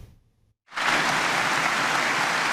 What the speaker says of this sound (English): Greeted with thunderous applause